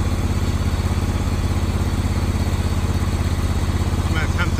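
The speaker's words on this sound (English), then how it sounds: "I'll mow this with the beast." Lawn mower engine running steadily on a steep lawn during spring lawn care work, a loud close continuous throbbing drone with an even rhythm and no pauses.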